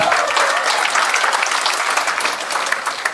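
An audience claps loudly and continuously, a dense burst of applause with individual hand claps crackling through, sustained for about three seconds without talk.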